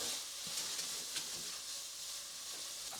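Noodles sizzle and hiss in a hot pan during stir-frying, a steady close frying sound with faint scraping as the food is moved around.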